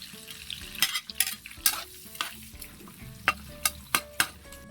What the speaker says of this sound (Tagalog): Kaya mga tambay gigisa tayo. Tayo mantika. Sunod, bawang sa sibuyas sa kamatis.